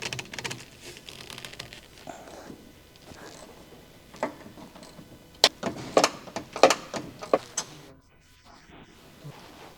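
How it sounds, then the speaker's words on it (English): A quick wrench fitted with a 12mm short socket removes the stabilizer link mounting nut on a 2007 Honda CR-V, giving a close burst of sharp ratcheting clicks after quieter handling noises. "Use a medium 12mm short socket with a medium quick wrench to remove the stabilizer link mounting nut."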